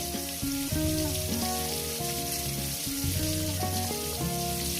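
Chopped tomato fries in a pan of oil, made while cooking spicy mustard eggplant, giving a steady dense sizzle and crackle with no pauses, loud and close throughout.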